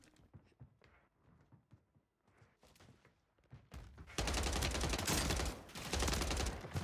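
Gunfire in the shooter Warzone 3 erupts as a loud, sustained automatic burst in the second half, following quieter footsteps and movement noises.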